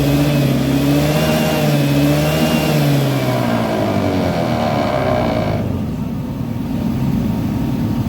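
A Honda Beat FI scooter engine revs up under the throttle with rising, wavering tones, then drops back to a rough idle, loud and close.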